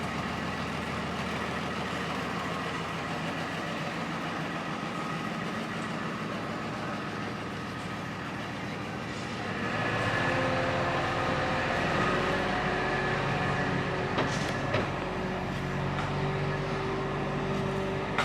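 A small amusement park train at Drayton Manor rumbles and hums steadily, with the engine growing louder partway through as it moves along, no voices.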